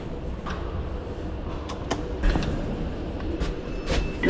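Train doors sliding shut at Nuneaton railway station, a soft rumbling platform bed with a few sharp clunks and hisses, moderately distant, no voices over it.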